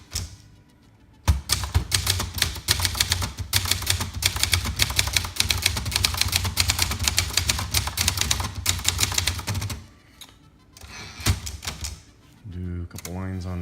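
Fast, steady keystrokes clatter on a 1979 Brother Deluxe 1350 typewriter, typing in a dense run for several seconds before it breaks off into a few scattered clacks and a short ratcheting sweep at the end.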